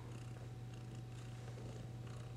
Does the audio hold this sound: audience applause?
no